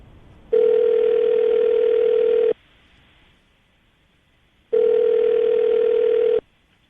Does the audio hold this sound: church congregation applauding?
no